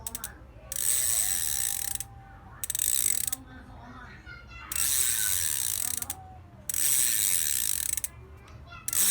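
Amoeba 6-pawl bicycle hub ratchet clicking in four bursts of fast, crisp freewheel ticks, close by, each burst stopping abruptly before the next spin, with no talking.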